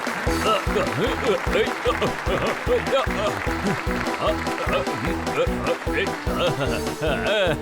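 Rhythmic, evenly spaced clapping runs through a Honey Bunny kids' cartoon scene, loud and steady beat after beat, layered with bright music and some voices.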